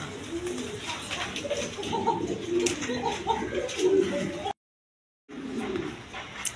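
Grizzle pigeons at a pigeon seller's coo in soft, repeated low calls close by, with faint background murmur and a short gap of silence near the end.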